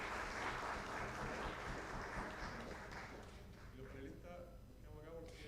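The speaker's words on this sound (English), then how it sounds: "let's give a round of applause to our panelists" Audience applause for a panel at a coal phase-out policy dialogue in Santiago, Chile, a steady broadband clatter of many hands that continues throughout, with voices and chatter rising beneath it toward the end.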